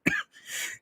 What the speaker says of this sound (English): persistent cough, but I'm feeling good, I assure you.